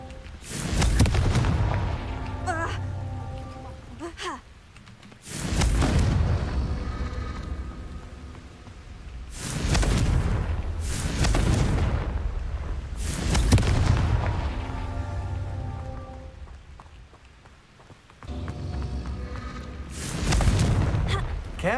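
Confringo fire spells cast in Hogwarts Legacy burst as a series of loud, booming blasts at irregular intervals, each explosion swelling and decaying with a rumbling tail, with a character's voice heard between them.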